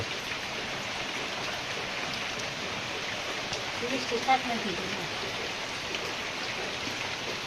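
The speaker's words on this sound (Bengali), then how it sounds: "এই দেখেন বৃষ্টি" Heavy rain falls steadily during a prolonged monsoon spell with flooding, a dense, even hiss of drops on surfaces with a brief faint voice in the middle.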